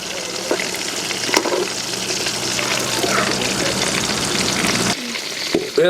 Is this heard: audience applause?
no